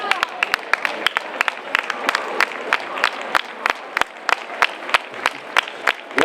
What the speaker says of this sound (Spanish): ¿Qué os parece si pido un aplauso?